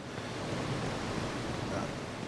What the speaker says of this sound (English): Step away from the noisy waterfall.